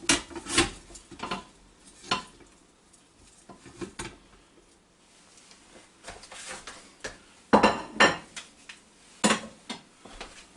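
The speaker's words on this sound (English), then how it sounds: "we'll go right back over here and put it right back down in this Instant Pot" Baby back ribs are lowered into an Instant Pot Duo Crisp, producing scattered clanks and knocks of metal and pot against the inner pot. Short bursts of clatter are separated by quieter pauses.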